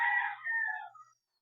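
A rooster crows once at a breeding farm, a single clear call that falls off at the end, close and alone with no other sounds.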